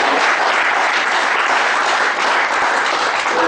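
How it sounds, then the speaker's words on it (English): An audience at a professional seminar on the MSME sector gives a big round of applause, loud continuous clapping from many hands that holds steady throughout with no talk over it. "please give me a big round of applause"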